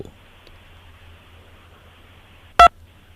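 A single short mobile phone keypad tone for pressing 2, one loud bright beep near the end over a quiet low hum.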